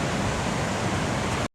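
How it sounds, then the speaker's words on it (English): Steady, full roar of falling water from Sacred Dancing Cascade in Glacier National Park, close and loud, a continuous broadband rush with no pauses. "So here's the waterfall down here."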